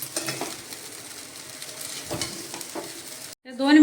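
Sabudana khichdi stir-fried in a pan over medium heat, with a steady sizzle and scraping spoon strokes against the pan, close and continuous before a brief cut near the end.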